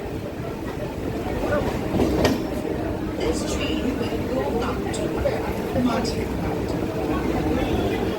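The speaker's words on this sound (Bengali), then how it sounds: "মাঝেরহাট যাওয়ার পথে একদম গঙ্গার ধার দিয়ে যায় ট্রেন জার্নিটা খুব সুন্দর" A local train in Kolkata runs along the bank of the Ganges toward Majerhat, giving a steady, continuous rumble of wheels and carriages with a few sharper clacks and people chattering throughout.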